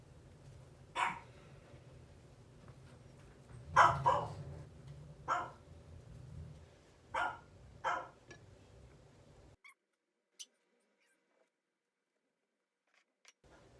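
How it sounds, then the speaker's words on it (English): Several sharp dog barks ring out at irregular intervals over a low background hum, then a few faint clicks in near silence. "Sorry, dogs don't want to bark."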